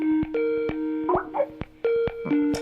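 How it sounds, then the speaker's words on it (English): A bright Skype ringtone of tonal chimes and bubbly blips in a repeating melodic pattern, clear and close with no voices. "You might know this iconic ringtone, but probably haven't heard it in years."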